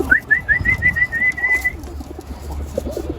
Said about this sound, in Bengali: বাইরে কিছু কবুতর ছাড়া আছে।